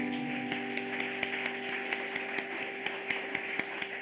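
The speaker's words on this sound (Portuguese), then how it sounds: "Aplauda o Senhor." A church congregation claps at a missions service, scattered sharp claps over a sustained musical hum with a voice faintly present.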